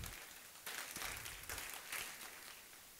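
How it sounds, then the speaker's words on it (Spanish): A church congregation applauds, a faint but steady wash of clapping with slightly stronger bursts, heard alone without talk. "Denle un fuerte aplauso al Rey."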